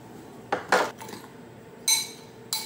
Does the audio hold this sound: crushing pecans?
yes